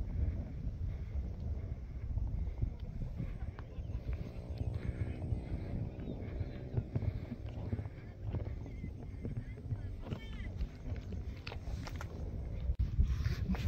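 Steady cool mountain wind buffets the microphone on the Mt. Ulap trail from Ampucao to Santa Fe, a constant low rushing roar throughout, with faint, indistinct voices in the background.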